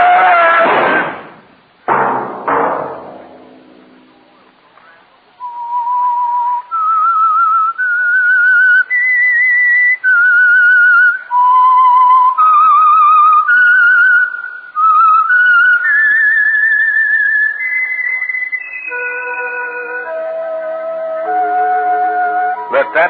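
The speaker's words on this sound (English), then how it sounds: "Let that whistle be your signal for the Signal Oil program, The Whistler" The whistled theme signal of The Whistler radio program for Signal Oil: a lone, clear whistled melody of held, wavering notes rising and falling over about eighteen seconds, following a few heavy thumps and scuffling noises.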